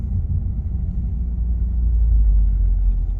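A used car with 82,000 miles driving along, a steady loud low engine and road rumble heard from inside, continuous and even with no talk.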